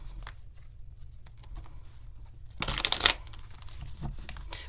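Tarot cards being shuffled: faint scattered card taps and slides, then a brief, louder burst of riffling flutter lasting about half a second, no talking.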